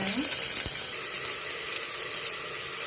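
Mustard seeds and small onions frying in hot oil in a pan while cooking sambar, a steady close sizzle running throughout with a brief stir near the start.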